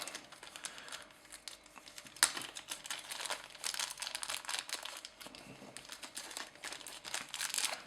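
Model car wheels are pulled out of small Ziploc plastic bags, making close, irregular crinkling and rustling with a sharp snap partway through and scattered handling clicks.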